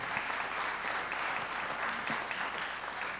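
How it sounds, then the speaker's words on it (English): Audience at a spring town meeting applauding, a steady, fairly faint wash of clapping from a sizable room that holds evenly throughout. "And I think that deserves a round of applause."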